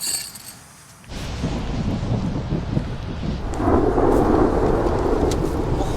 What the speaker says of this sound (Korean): 와, 진짜 번개 대단하다